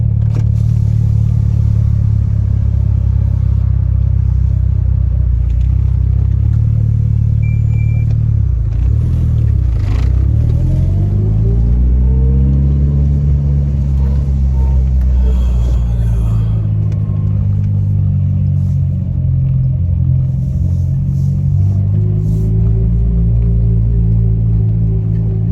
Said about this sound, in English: let me just park the car